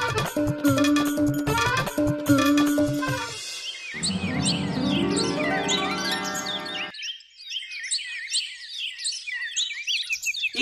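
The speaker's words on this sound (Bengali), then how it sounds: "ইস, পাখিগুলো কিরকম ভাবে কাঁদছে" High chirps and tweets from several cartoon birds ring out, first over a brief melodic tune, then on their own in quick bursts.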